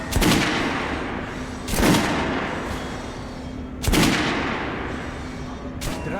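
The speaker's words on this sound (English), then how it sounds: "Head over to my range and try out those guns" Weapons test-fired at a shooting range in Metro: Last Light Redux: four loud, separate gunshots spaced about two seconds apart, each with a sharp crack and rumbling tail over a steady background hum.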